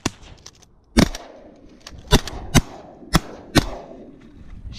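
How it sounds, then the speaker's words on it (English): Shotguns firing while duck hunting over decoys at a spoonbill, five sharp, loud reports spaced irregularly over a few seconds, one near the start and four close together later, with quiet marsh ambience between. "Alright, I'm gonna let you shoot first."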